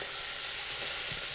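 Steak bites frying in butter in a pan, a soft steady sizzle with faint stirring scrapes, quiet and close, no talking.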